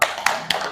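Three quick, evenly spaced claps ring out in a steady rhythm as a tepuk salut clapping chant in a classroom, crisp and close with no talking over them.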